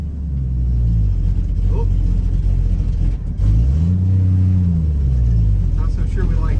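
Old 300,000-mile farm truck pulling in third gear, a low engine rumble that drops and then rises steadily as it accelerates, close and loud, with a brief voice over it.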